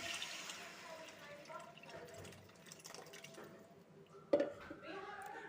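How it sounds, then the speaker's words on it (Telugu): Water is poured into a pot of fish curry with tamarind juice, a splashing, filling sound punctuated by a sharp clank, while someone talks quietly nearby. "ఇంకొంచెం వాటర్ యాడ్ చేస్తున్నానండి"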